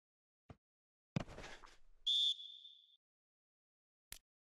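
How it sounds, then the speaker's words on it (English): A referee's whistle sounds once, a short sharp shrill blast during a Süper Lig football match between Istanbul Basaksehir and Galatasaray at Fatih Terim Stadium, set among a few isolated knocks and thumps in otherwise near-silence. "Whistle's gone, that's a foul."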